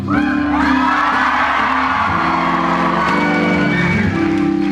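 Excited crowd at a Big Brother Australia 2001 charity pantomime for the Starlight Foundation, whooping and cheering loudly and continuously throughout.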